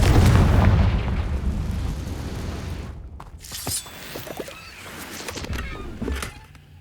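A Confringo fire spell blasts in Hogwarts Legacy, a loud, booming burst that rumbles and fades, followed by scattered crackles and smaller pops.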